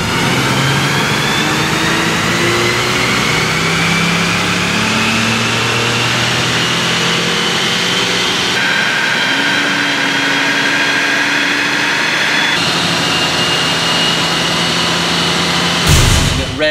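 A 2013 Ford Mustang engine runs on a chassis dyno at about a mile above sea level, a loud sustained drone with rising and stepping harmonics as the revs climb, ending in an abrupt surge of noise.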